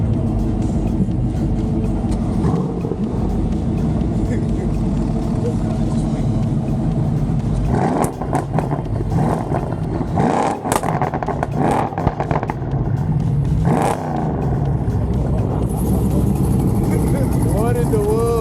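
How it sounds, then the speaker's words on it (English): A German muscle car with water methanol injection idling and revving at a large car show, a loud rumbling engine with bursts of revs, under excited voices nearby. "His own little German muscle car going here."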